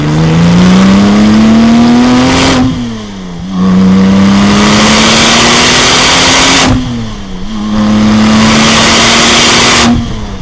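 A Porsche 996 Turbo Cabriolet with a six-speed manual revs hard while driving, its engine note climbing through two long pulls, dipping sharply between gear changes, then rising again, loud and close with no talking.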